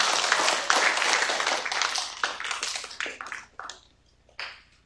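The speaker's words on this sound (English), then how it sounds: "so round of applause for our next speaker" An audience at an evening science café event applauds a new speaker, dense clapping that starts strong and thins out over a few seconds into scattered last claps.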